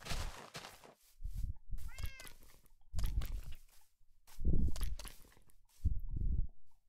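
A cat meows in the video game Minecraft, a short tonal cry standing out between bursts of crunching, footstep-like game noises and low thumps, fairly close and moderate in level.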